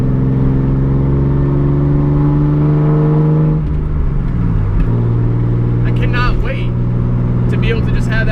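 A big-turbo RB-engined 240SX accelerates from inside the car, its engine drone rising in pitch while turbo whistle and spool build, with someone talking over the noise throughout.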